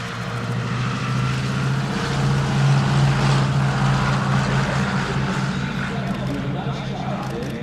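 A Beech 18 or C-47 Skytrain touches down on a runway at an airshow, its steady engine drone holding loud and close throughout while a voice talks over it.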